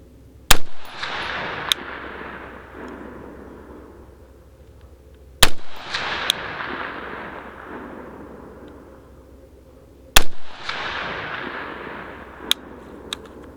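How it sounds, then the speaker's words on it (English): An ACR DMR rifle fires three rounds at a target. Each shot is a loud, sharp crack with a long echoing tail, spaced about five seconds apart, with faint clicks in between. "now we're going to be shooting at a different group, or a different target"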